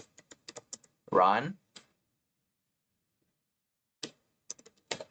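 Typing a command on a computer keyboard: clusters of sharp, close key clicks at the start and again near the end, separated by a short spoken word and a long silent gap.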